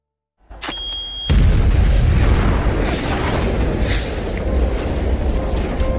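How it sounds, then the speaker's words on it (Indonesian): A bomb detonates in an Indian action film with a sudden deep boom that erupts into a loud, rumbling roar, sustained and heavy after a brief quiet lead-in with a faint tone. "Tapi saat itu ia sedang mengaktifkan bomnya dan bom pun meledak."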